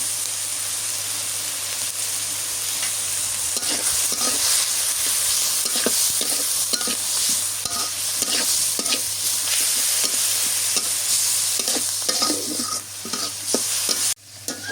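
Shrimp sautéing in a pan with turmeric and salt crackles in a loud, steady sizzle, with repeated spatula scrapes and stirs over it and a sudden dip near the end.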